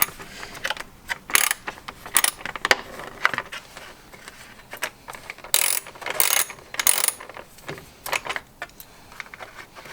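Ratchet wrench loosening 10mm bolts on the coolant reservoir of a Toyota GT86, bursts of close, rapid clicking pawl spins separated by brief pauses, with faint tool handling and no speech.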